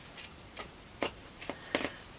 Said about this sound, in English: Something quite satisfying about the scrunch of a nice sharp pair of scissors on fabric.